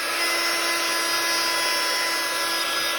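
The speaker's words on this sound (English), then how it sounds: "so I'm just going to use my heat gun." A heat gun blows steadily over wet craft paper, giving a constant close whirring hiss with no talking.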